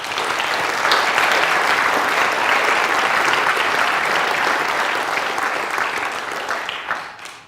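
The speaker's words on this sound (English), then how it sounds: "please would you give them a round of applause" Sustained audience applause at a food science lecture, a dense wash of many hands clapping steadily for about seven seconds before tapering off at the end.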